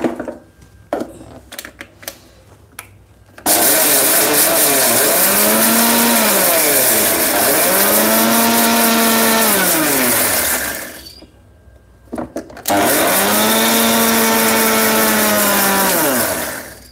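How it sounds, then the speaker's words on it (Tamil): A mixie jar grinds dry ingredients for a banana-flower stir-fry into powder, its loud motor whine rising and falling in several long bursts with a short pause between runs, and no talk. "இதெல்லாம் மிக்சி ஜாரில் போட்டு நான் பொடி பண்ணிடுறேன்"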